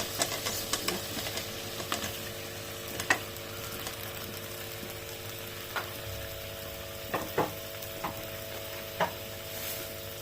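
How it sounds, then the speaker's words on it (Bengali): Boiled potatoes being stirred and fried in spices for aloo dum, with a quiet background sizzle and scattered light scrapes and knocks of the spoon against the pan at an uneven pace. "এখন ভালো করে নেড়ে চেড়ে নিব, একটু কষিয়ে নিব, ভালো করে কষিয়ে নিব।"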